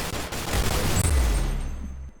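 Rapid gunfire in the Roblox shooter Arsenal, a dense burst of shots with low booming thumps running almost continuously for a couple of seconds, loud and close, with no talk over it.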